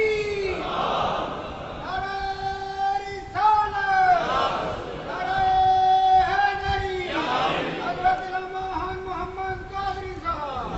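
A crowd chants religious slogans in loud, rhythmic unison, voices rising and falling in repeated call-like phrases that fill the space.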